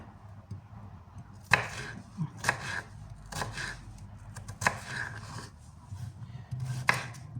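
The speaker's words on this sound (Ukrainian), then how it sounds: "Так, Для початку беремо, ріжемо наш огірочок." A knife chops a cucumber into thin strips on a board with sharp, irregular strokes, close and moderately loud against a quiet kitchen background.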